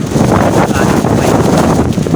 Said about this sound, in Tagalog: Grabe lakas ng hangin talaga.